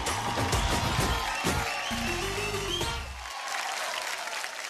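Applause from a TV dance show studio audience over music with a low bass beat; the music drops out near the end while the clapping carries on.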